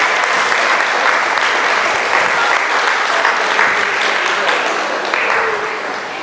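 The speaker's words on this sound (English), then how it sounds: "Give yourselves a round of applause for today" An audience applauding itself after an event celebrating Africans: loud, dense, sustained clapping from a large crowd, steady throughout and easing slightly near the end.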